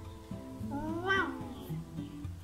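A pet cat meows once in a rising and falling tonal cry amid other faint household sounds and a few soft low noises, close by and fairly quiet.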